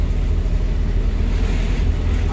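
Thick, heavy flow of water at Valara waterfall in Idukki, a steady loud roar and rumble with no break, close by and wind-buffeted.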